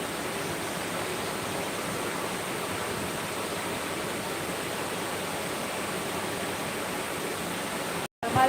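Steady, heavy rainfall makes a dense, unbroken hiss from start to finish, close and even in loudness, with no voices, and cuts off briefly near the end.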